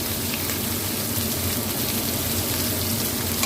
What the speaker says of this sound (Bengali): এবার কাঁচা এই পেঁয়াজটা একটু দিয়ে দিলাম, কুচনো পেঁয়াজ